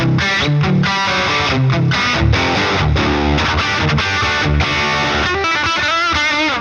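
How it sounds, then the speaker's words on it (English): An electric guitar runs through a Peavey Session preamp pedal into a Peavey VTM amp, giving a loud, distorted, driving riff of chugging chords and quick note runs that plays continuously with no talking. "That was the Session going into the VTM."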